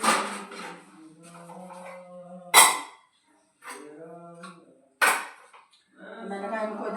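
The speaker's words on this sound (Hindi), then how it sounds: "मैंने कहा ये 2-4 बर्तन भी पड़े हैं, इनको भी मांज दूँ" Utensils, pots and plates being scrubbed and washed during household cleaning before Holi, with sharp clinks and clatters of dishes between stretches of someone talking.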